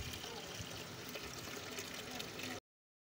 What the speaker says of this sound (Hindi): और इसमें पानी डाल के इसमें डालता हूँ।